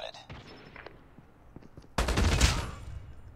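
Gunfire in the mobile shooter Call of Duty Mobile: scattered faint shots early on, then a loud close burst of rapid automatic fire that rings on. A voice is heard briefly.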